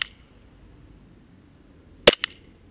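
An airsoft gun firing a 0.20 BB through a chronograph, Nuprol 3.0 gas in a WE pistol: one loud, sharp crack followed by a quick smaller snap, with near silence before it.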